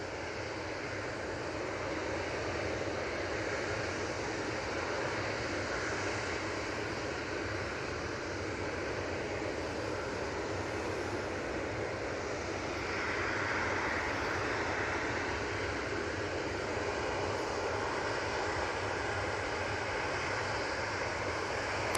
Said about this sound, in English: It's this plain Jane 737-800 off to Rhodes.